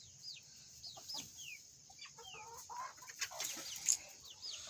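Two roosters sharing a coop cluck and chirp in short, scattered bursts while pecking at a steak, fairly quiet and close with faint background hiss.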